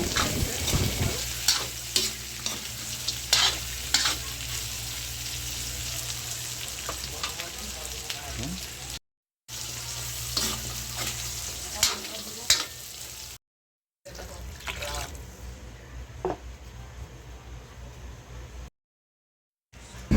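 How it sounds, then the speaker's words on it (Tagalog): Chorizo being sautéed and stirred in a pan for pancit bihon guisado, a loud close sizzle with frequent spatula scrapes and clacks, briefly cut by short silent gaps. "Haloloyin lang natin at igisa natin uli maigi dyan"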